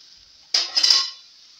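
A metal lid is set down onto a cooking pot holding vegetables, giving a single clattering clink with a brief ringing rattle, close and clear against a quiet steady background hum.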